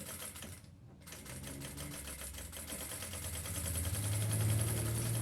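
A sewing machine stitches fabric with black thread in a fast, steady mechanical rattle that stops for a moment, then runs on and grows louder and deeper toward the end.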